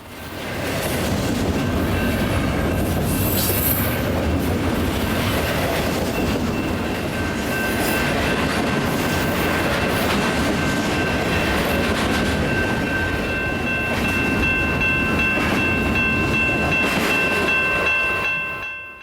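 A Z train rolls past on railroad tracks, a loud, steady rumble of wheels and cars that holds for the whole stretch, with high metallic ringing tones running above it and no talk.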